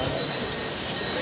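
A small ride-on train at SM Tungko mall, a continuous rumbling, rattling roll with a faint metallic edge, heard up close and steady for the whole moment.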